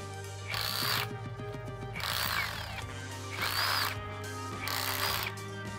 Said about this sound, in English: So to get this off, you got to chisel it off.